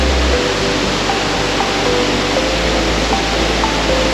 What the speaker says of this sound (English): You like waterfalls? They got them.